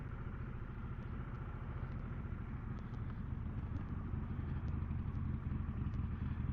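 A 2024 Harley-Davidson Sportster S engine idles steadily with a low, continuous rumble and faint mechanical clatter, close and alone with no talk.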